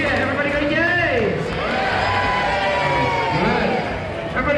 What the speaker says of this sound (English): How about a little cheer? Everybody go, yay!